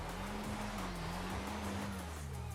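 A modified rally car driven fast in GTA 5 gives a steady, loud engine drone that holds a constant pitch with slight wavering throughout, alone with no talk.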